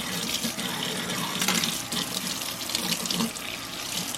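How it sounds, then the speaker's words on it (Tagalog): Hot water gushes from a sink tap while an air fryer rack and bowl are washed with a sponge, a continuous splashing stream that shifts slightly as the items move under it. "we'll wash it with hot water and then liquid detergent"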